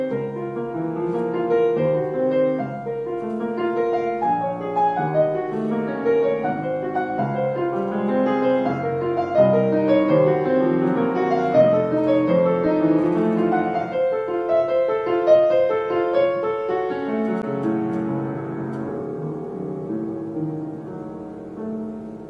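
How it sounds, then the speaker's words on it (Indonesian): A piano played alone as a melodic passage of overlapping sustained notes and chords at a steady moderate volume, continuous for over twenty seconds with no voices. "Itu adalah suara dari sumber bunyi piano."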